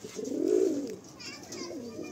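Pigeons coo in a loft, a soft, low throaty warble rising and falling, with a second quieter coo after a brief pause, close by.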